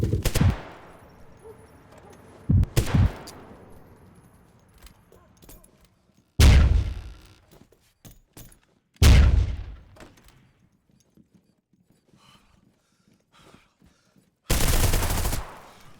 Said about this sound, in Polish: to już były strzały